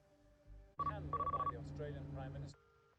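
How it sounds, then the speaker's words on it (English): A telephone rings in a scene from the TV drama The Crown, sounding as quick repeated electronic trill bursts over a low hum and muffled background voices, moderately quiet and brief. "the phone's right there and he won't answer it"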